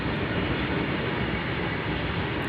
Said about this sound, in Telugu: సో అయితే ట్రైన్ వెళ్తుంది